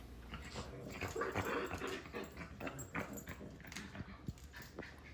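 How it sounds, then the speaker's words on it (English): A dog whimpers and yips in strange, uneven bursts at close range, with faint scuffing and shuffling behind, and no one speaking. "He always makes these weird noises and bites his leash every time I try to put it on."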